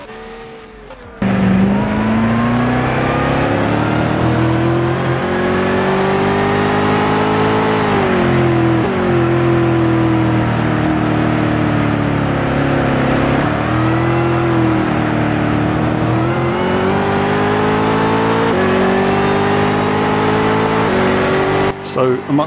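A car engine revs in the GT Sport racing game, a loud continuous roar that climbs and settles through gear changes for about twenty seconds after a brief quiet start.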